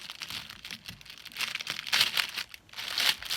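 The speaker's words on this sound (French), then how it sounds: "Tous ces bruits de papier, je suis désolée, vraiment." Paper crinkling and rustling close by while unboxing a cross-stitch kit, in irregular bursts that swell and fade, with no talking.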